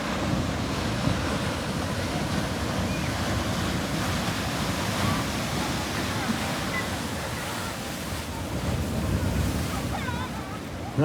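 Waves break on a wild, windy beach in a continuous roar of surf, with heavy wind buffeting the microphone throughout.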